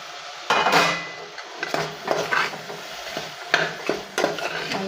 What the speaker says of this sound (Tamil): கேரட், பீன்ஸு, உருளைக்கிழங்கு எல்லாத்தையும் போட்டு நல்லா வதக்கி விட்டுக்கோங்க.